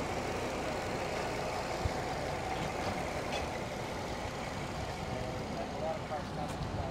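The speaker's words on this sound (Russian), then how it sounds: "Вот движок работает мягенько." A 2015 Nissan Rogue with 132,000 km idles smoothly and quietly, giving a low, even, continuous hum with no surges for seven seconds.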